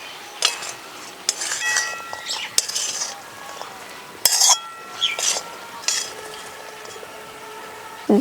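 Chopped fruit, including lychee, folded into cooled, crumbly semolina halwa, heard as close clinks and scrapes of a metal spoon against a bowl in short irregular bursts with quiet pauses between.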